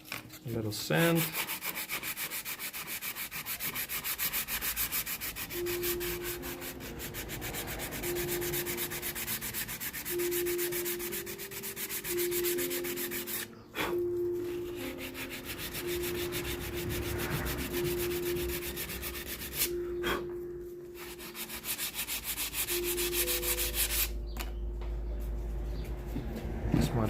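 Wood is sanded by hand in a steady, close rasping rub made of continuous back-and-forth strokes, with a couple of brief pauses.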